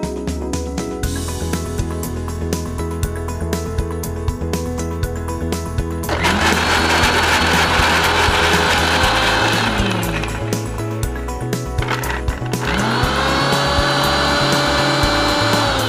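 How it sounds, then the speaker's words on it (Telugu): A mixer grinder jar blends onions into a paste during a Telugu cooking show while palakura garelu are being made. Two loud bursts of steady motor whirring rise over a quieter background, with a short pause between them. "దీనికోసం మనం ఒక మిక్సీ జార్ తీసుకుందాం. సో ఫస్ట్ మనం దీంట్లో ఆనియన్స్ వేసుకొని పేస్ట్ చేసుకోవాలి."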